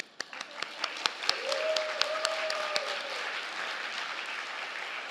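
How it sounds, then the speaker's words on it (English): Audience applause at an award ceremony during a children's literature congress, building from a few scattered claps into steady clapping across the room, with a brief tonal whine partway through. "I think we can applaud."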